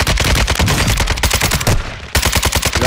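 Rapid video game gunfire rattles in loud, dense bursts of automatic shots, pausing for a moment before another volley.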